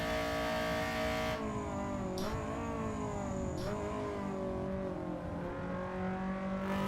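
An EG Honda Civic race car with VTEC screams during a cup race at Castle Combe circuit, a loud steady high-revving engine note that climbs and shifts, heard from inside the car, with no talking.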